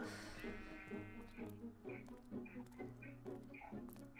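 Sheep bleat in the video game Minecraft, several wavering calls in a row, faint and close together, with some background noise.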